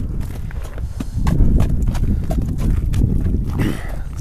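Hooves of a spirited, well-trained horse for sale in Bishkek clip-clop and pound close by in a quick, uneven gallop rhythm, with faint voices underneath.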